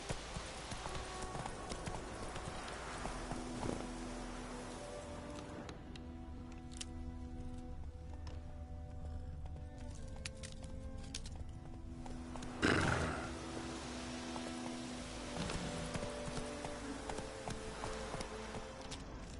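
Horse hoofbeats while riding in The Witcher 3 video game, a steady clip-clop of galloping under game music and ambience, with one sharp louder hit partway through.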